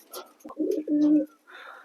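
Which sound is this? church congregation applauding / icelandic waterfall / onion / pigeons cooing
pigeons cooing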